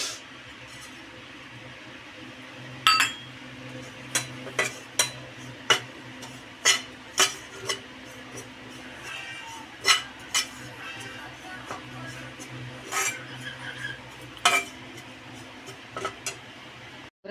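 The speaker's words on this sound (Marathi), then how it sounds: "आता आपण काढून घेतो आहोत मिक्सरच्या भांड्यामध्ये." Roasted peanuts are tipped and scraped from a pan into a steel mixer jar in a home kitchen, giving a string of sharp metallic clinks and taps, about a dozen spread irregularly over a quiet background.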